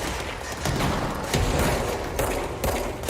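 Dense video-game gunfire crackles throughout, with bursts of shots and short booms layered into a continuous, busy firefight at steady loudness.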